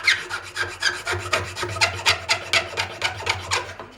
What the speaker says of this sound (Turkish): zımparalama veya eğlemem gerekiyor